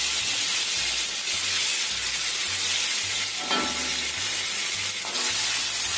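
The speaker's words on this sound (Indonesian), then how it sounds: "Ini kita tumis bumbu halus." Ground spice paste is stir-fried in a pan for fried rice and noodles, making a loud, continuous hissing sizzle with occasional stirring scrapes and no talk.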